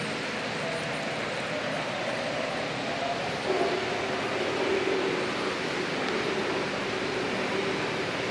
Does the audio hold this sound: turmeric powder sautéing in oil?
no